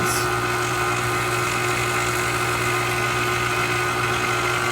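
A KitchenAid stand mixer with dough hook kneads white bread dough, its motor giving a steady, loud, continuous whir and drone with a constant pitch throughout.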